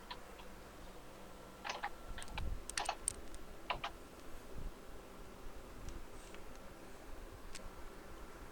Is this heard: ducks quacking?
no